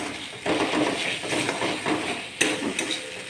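Spices fried with onion and tomato for an aloo matar curry sizzle in a pan while a spatula scrapes and knocks against the metal in uneven strokes; close and fairly loud, no voices.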